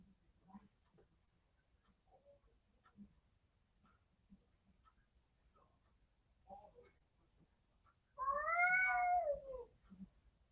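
After quiet ticking and faint sounds, a cat lets out one loud, drawn-out wavering meow near the end, fairly close.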